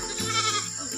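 Goats in a barn on a Philippine farm give a short, wavering bleat over steady background noise, with no talking.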